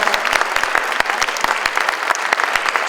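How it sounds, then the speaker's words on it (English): Audience applause at a motivational event, a dense run of claps with sharp individual hand-claps standing out, steady and fairly loud throughout with no speech over it. "Clapping is good, folks, I'm telling you."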